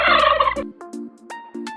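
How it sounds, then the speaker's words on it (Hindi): A turkey gobbles in a series of loud, close, rattling calls, the first one long and the rest short bursts in quick succession, with no other sounds. "और यह है बच्चों टर्की, जिसे हिंदी में टर्की कहते हैं।"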